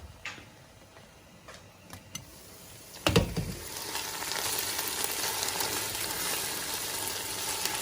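A fish and chicken wing stew sauce simmering in a pot and getting stirred, with a steady close sizzle and bubbling that swells after a sharp knock against the pot, preceded by a few light ticks.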